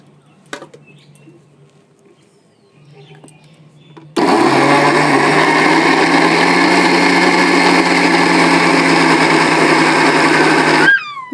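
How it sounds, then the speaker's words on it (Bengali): An electric mixer grinds cut, seeded watermelon pieces into juice, starting abruptly after a few seconds of quiet room noise and running as a loud, steady high whine for about seven seconds before cutting off. "মিক্সিতে আমার পেস্ট করা হয়ে গেছে।"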